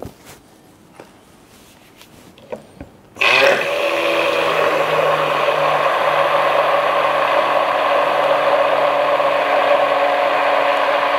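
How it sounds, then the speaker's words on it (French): Electric mixer switching on with a sharp start after a few quiet clicks and handling taps, then running in a loud steady whir while blending chocolate tart filling with food colouring, with no talking. "Je vais mixer, je vais voir ce que ça donne."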